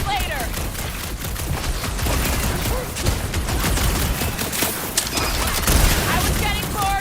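Rapid gunfire bursts during a boss fight in Marvel's Guardians of the Galaxy, crackling volleys layered with game music and effects while characters talk over the action.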